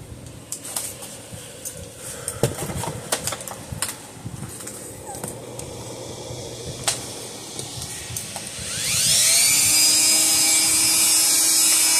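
A Dremel rotary tool spins a wire brush against the corroded AC plug of an old Speedrite 120 fence energizer. The close, steady high-pitched whine starts late and runs loud to the end, after scattered clicks and handling noises.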